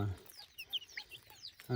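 Chickens and young chicks cluck and peep softly on a cold morning hillside farm, scattered short calls close by, with a brief voice at the start and end.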